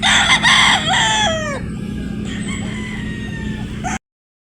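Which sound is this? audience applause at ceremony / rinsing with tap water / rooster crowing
rooster crowing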